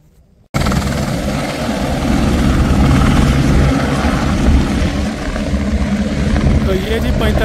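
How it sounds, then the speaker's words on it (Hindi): A helicopter flies past near Panchtarni on the Amarnath pilgrimage route. Its loud, steady rotor and engine roar starts abruptly and holds at full volume throughout. "तो ये जी पंचतरनी से जा रहा है हेलीकॉप्टर, एक ये जा रहा है और दूसरा लैंड करेगा।"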